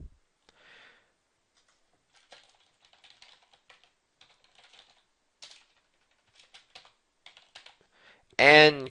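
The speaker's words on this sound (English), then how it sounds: "You're going to put in your username and password" A username and password are typed on a computer keyboard as sparse, faint key taps scattered irregularly across a quiet room, followed at the end by a person starting to speak.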